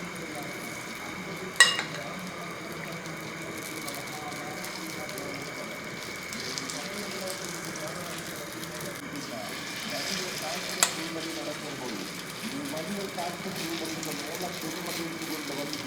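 Egg snack batter sizzles on a hot, oiled dosa pan: a faint, continuous frying hiss runs throughout, with a couple of sharp clinks of a utensil against the pan.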